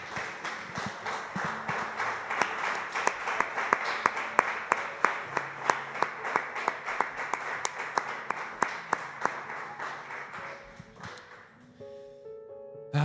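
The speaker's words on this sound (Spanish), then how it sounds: "Le damos un fuerte aplauso al Señor, mis hermanos." A church congregation claps together in a strong, steady rhythmic beat for about ten seconds, close and lively, before the clapping fades and a few stray tones remain.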